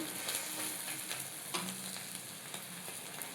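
A masala omelette with onions sizzles steadily in a pan, a close, continuous frying hiss broken by a few soft scrapes, with no talking.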